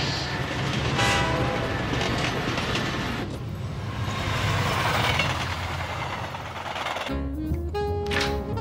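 A bullet train running on rails in a cartoon. A loud, steady rumble and roar fill the sound, and tonal horn-like notes rise near the end.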